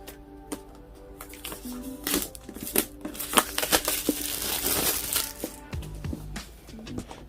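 Packaging for an Apple iPad Air (2020) is unboxed, with close crinkling, rustling and scraping of cardboard and plastic wrap, plus a few sharp taps and clicks, irregular and busy.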